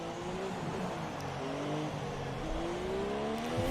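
An F1 racing car engine in a racing video game howls at high revs, its pitch climbing through gear changes in a continuous, loud whine with no talk.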